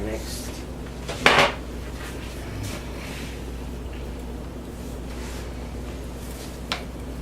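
Spatulas clink and scrape against containers while mixing soap batter, with one sharp clatter near the start and a few faint knocks afterward, all quiet and close with a soft background hum.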